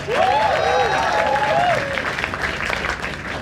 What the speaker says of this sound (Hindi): एक बार जोरदार तालियां पूरे पैनल के लिए मैन